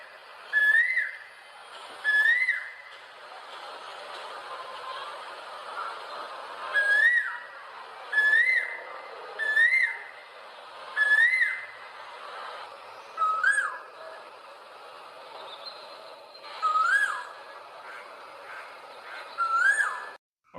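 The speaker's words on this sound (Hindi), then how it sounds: "अब सुने कोयल की आवाज।" A koel (cuckoo) sings a rising whistled call, repeated about a dozen times at spaced intervals, clear and moderately near against a quiet background.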